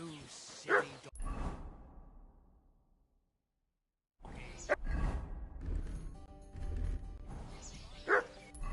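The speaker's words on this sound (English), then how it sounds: "You silly dog." A dog in Kingdom Come Deliverance 2 gives a few sharp barks and yips, with a short silent gap between them and voices talking alongside.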